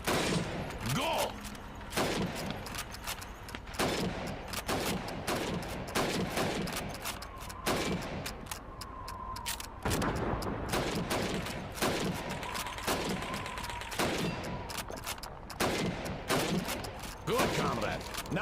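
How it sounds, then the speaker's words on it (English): Rifle fire at helmet targets on a timed Red Army training range in Call of Duty 2, a dense run of sharp shots and bolt-action clicks over continuous game ambience, with faint tonal cues between volleys. "You have 15 seconds to shoot the helmets."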